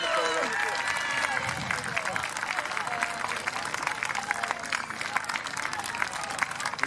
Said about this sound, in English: So let's clap her on